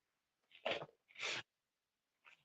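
A person sneezes in a quiet room: a sharp two-part burst followed by a smaller, softer sound a moment later.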